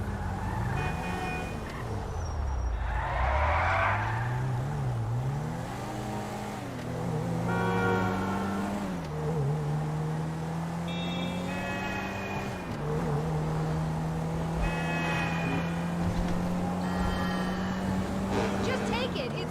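Car engine from GTA 5 droning steadily with rising and falling pitch as it accelerates and shifts, a constant mid-level hum through the whole stretch while a voice speaks over it.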